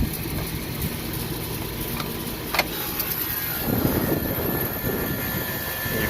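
Outdoor air conditioner condensing unit running with its compressor on while the fan motor stays stopped, a loud steady mechanical drone throughout.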